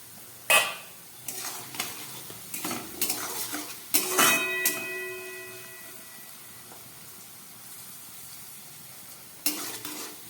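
A utensil scrapes and clanks against a frying pan in short bursts with pauses, over a faint sizzle of potatoes frying.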